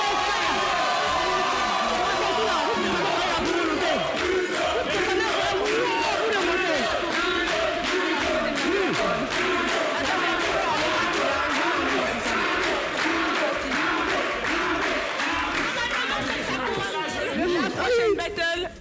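Studio audience at a French television game show cheers, shouts and claps for an applause meter, a loud, continuous wall of crowd noise with many overlapping voices that fades at the very end.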